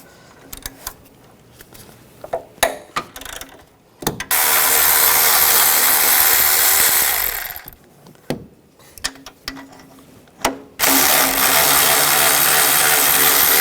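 Bolts removed with a 12mm socket, likely on a power tool, on a 2004-2009 Toyota Prius: scattered clicks and clanks of metal, then two long, loud, steady whirring bursts, close, with no speech.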